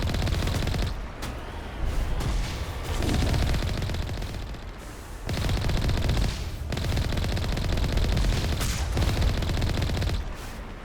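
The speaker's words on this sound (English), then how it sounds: "Well, now they're shooting at us." Sustained gunfire from Geth enemies in Mass Effect Legendary Edition rattles in loud, continuous automatic bursts with brief gaps, dense and close throughout.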